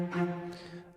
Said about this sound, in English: I actually used the library called Spitfire Symphonic Strings. They sound like this.